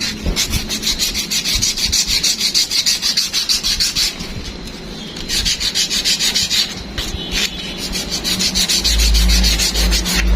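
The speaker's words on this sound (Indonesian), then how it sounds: "Kita amplas kering saja. Di sini saya menggunakan amplas nomor 320." Rapid back-and-forth scratchy rubbing of 320-grit sandpaper, dry sanding a forged carbon surface, steady and close, continuing throughout with a dry rasping texture.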